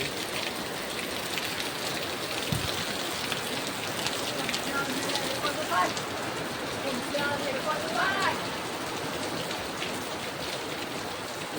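Heavy rain pours down steadily in a dense, continuous hiss, with a few faint bird chirps rising briefly through it.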